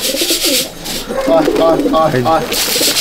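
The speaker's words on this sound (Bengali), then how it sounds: "পায়রা ল্যান্ড করছে দেখুন নিচে।" Pigeons at a rooftop loft during a flying competition, close soft cooing calls repeating in a rough rhythm, with a brush of wing flaps and a voice speaking nearby.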